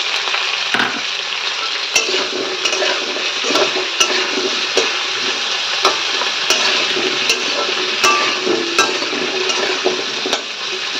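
Potatoes fry in a pan with a continuous loud sizzle, close by, while a utensil scrapes and clinks against the pan at irregular intervals as the food is stirred.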